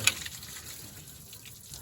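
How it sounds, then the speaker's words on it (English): Water drains from a disconnected radiator hose and splashes steadily onto a trailer deck, a continuous close gush after a brief knock at the start. "we'll just drain it all onto the trailer because it's just water"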